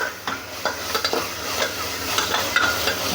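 Ginger garlic paste being stirred into mutton keema frying in a pan, a continuous close sizzle under repeated scraping strokes of a spoon, with no voices.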